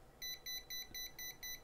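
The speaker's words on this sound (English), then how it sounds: "it immediately starts beeping and the LED flashes" Cheap PC fan controller sounding its stall alarm: six evenly spaced electronic beeps, each about a fifth of a second long, fairly loud over a quiet background hum, with no talk.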